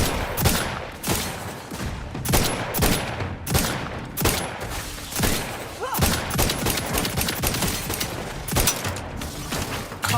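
Rapid, sustained gunfire in The Outer Worlds 2 video game, dense volleys of shots rattling loud and close throughout, with brief pauses between bursts and no talking.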